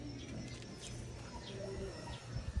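Pigeons being fed peanuts coo softly and chirp amid a steady wash of background noise, with faint scattered calls and light fluttering throughout.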